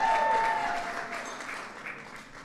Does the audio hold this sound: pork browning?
no